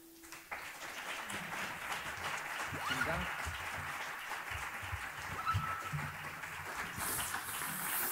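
A conference audience in a hall applauds a speaker named Luke Andrews, steady dense clapping sustained throughout, with a brief voice at the very start.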